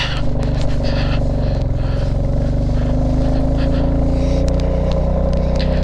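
A motorcycle carrying two riders labors along a rough Spiti Valley road, its engine droning loud and steady with a strained, rising tone and occasional scraping clatter over the surface.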